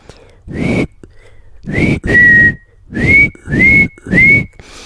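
A person whistles in imitation of a magpie parent's feeding call: five loud, clear whistled notes, each with a short upward-sliding tone, separated by brief pauses.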